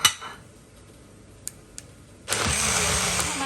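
An electric kitchen blender grinding tamarind chutney kicks in abruptly after a few soft clinks, then roars at a loud, steady whir close by.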